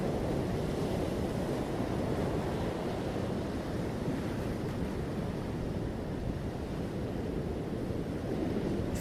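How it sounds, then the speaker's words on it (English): Steady broadband wash of water waves rolls on without a break, a dense, even rush with a faint windy hiss and no distinct individual breakers. "Feel the power of the water,"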